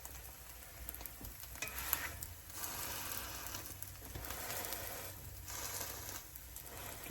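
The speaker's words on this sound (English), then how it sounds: "You can hear that butter sizzling on that bread." Butter sizzles around slices of French toast in a cast iron pan, a steady close crackling hiss with faint stirring and scraping, no voices.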